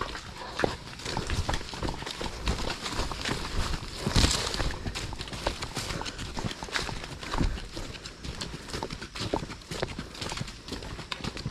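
Horse hooves clip-clop as the horse hauls a load of palay (unhusked rice), a busy run of close, irregular hoof knocks with rattling and some louder thuds throughout.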